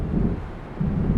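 Low, rumbling thunder from an approaching storm in Alan Wake, a short heavy roll with a deep swell at the start and again near the end.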